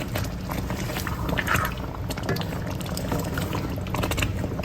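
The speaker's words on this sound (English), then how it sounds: "Everything's simmering." Bolognese sauce with beef stock simmering in a pot for rigatoni, a steady close bubbling and low rumbling wash that carries on evenly throughout with no talk.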